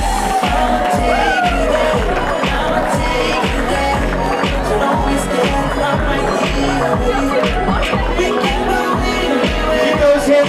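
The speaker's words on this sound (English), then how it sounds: "Keep those hands clapping, ladies and gentlemen" A wedding reception crowd applauding and cheering as the bridal party enters, with steady clapping over a thumping music beat and loud voices of the crowd throughout.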